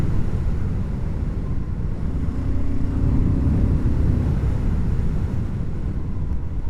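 BSA Scrambler 650 motorcycle on the move, a constant loud roar of wind buffeting and road noise over a low engine drone, unbroken throughout with no talk.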